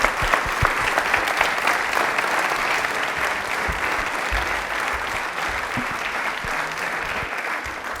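Studio audience at a television quiz show applauds loudly and steadily, a thick wash of clapping that holds for the whole stretch with no talk over it.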